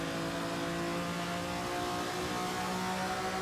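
Ferrari 250 Testa Rossa from 1958 in the Assetto Corsa racing game, a faint, steady engine tone with layered harmonics that shift slightly in pitch, no talk.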